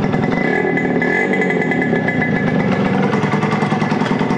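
Small Yamaha RD50 motorcycle engine running close and loud, a buzzy, rapid two-stroke rattle with steady revving and no talk.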